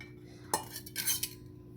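A spoon clinks and scrapes against a bowl as milk is mixed with custard powder for homemade ice cream, giving a few short metallic taps and swirls, close and fairly quiet.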